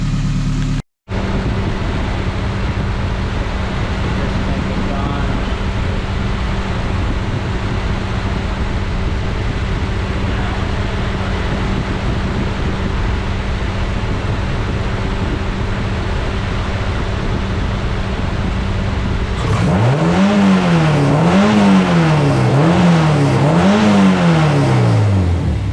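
Subaru BRZ with a swapped Honda K24 engine idling steadily with a loud fan whir for a long stretch, then revved hard several times toward 6000 RPM in quick rising and falling bursts near the car.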